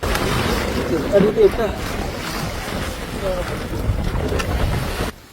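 Wind rushes past over the wash of water against the hull of a boat sailing with its engine off off Kanyakumari, a steady open-sea hiss with no engine hum.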